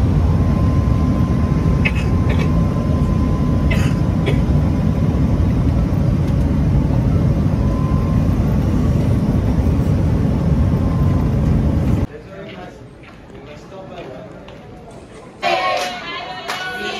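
Airliner landing roughly, a loud steady engine and airframe rumble with rattling that runs for about twelve seconds, then drops to quieter cabin noise with brief clatter near the end; speech is tagged but no clear words.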